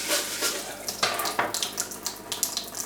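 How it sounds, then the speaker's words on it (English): Water running from a kitchen sink tap while a pot is scrubbed with a brush, with splashes and brushing bursts, close and fairly steady. "So I've got a scrubbing brush that I keep near the sink"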